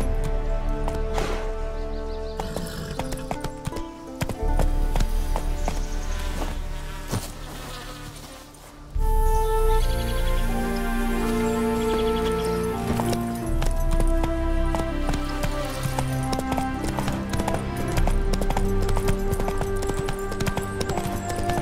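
Roach the horse gallops in The Witcher 3 with rhythmic hoof clip-clops, heard amid a dense bed of game music and ambience that drops out briefly near the middle before resuming loudly.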